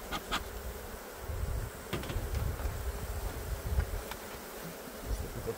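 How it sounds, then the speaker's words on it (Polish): Honeybees from an opened hive during a colony inspection and honey harvest swarm about in a continuous low buzz close by, with brief scattered clicks and knocks from hive parts over the hum. "pszczoły się po prostu wylewają z tego ula"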